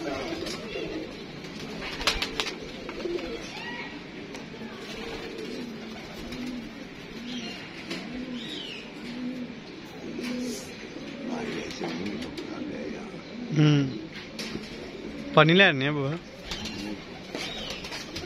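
Soft, repeated cooing of pigeons close by, rising over a quiet background with people talking intermittently.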